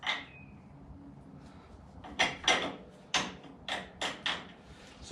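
A bolt is worked into place during a Rhino axle install on a Honda Pioneer 1000-5 side-by-side, giving a string of sharp metallic clanks and knocks at close range over quiet background.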